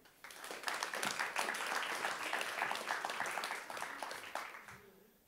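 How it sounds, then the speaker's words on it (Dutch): Audience applause welcomes a guest, a Tilburg University professor of public administration, onto a talk show stage, building quickly, holding steady and tapering off near the end. "Geef hem een hartelijk applaus."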